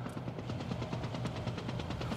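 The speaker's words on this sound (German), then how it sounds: "Scheiß Heli! Lässt einfach nicht locker!" An attack helicopter in the Final Fantasy VII Remake video game gives a fast, steady rotor chop with rhythmic thumping pulses, fairly quiet and continuous, with no voices.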